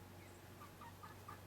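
Backyard chickens near a wooden chicken run gate give soft, scattered clucks over a low steady hum, faint and fairly close, with no talking.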